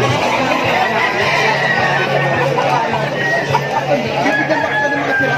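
Chickens at a busy market in Malabon cluck and a rooster crows faintly amid a dense crowd din, with people talking and chattering throughout.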